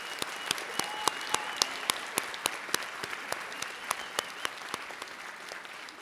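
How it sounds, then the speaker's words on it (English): Commencement audience applauding, a dense steady patter of many hands with a few sharper individual claps, moderately distant and with no talking over it. "let's give them a round of applause"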